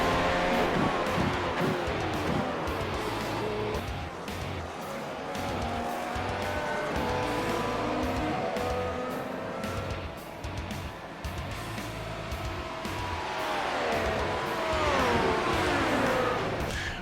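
An F1 car in the iRacing game at Silverstone screams through gear changes, its engine pitch rising and falling with upshifts and downshifts, and tyres squeal intermittently, loud and continuous throughout.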